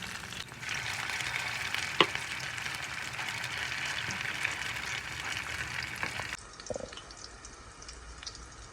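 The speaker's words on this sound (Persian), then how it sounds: "هم میتونیم با قاشق دونه دونه داخل روغن بندازیم و کوکوامون به صورت گرد گرد در بیاد" Kuku sabzi herb batter fries in hot oil, spooned in as small rounds, giving a steady close sizzle that runs throughout and drops to a lighter crackle near the end, with no talking.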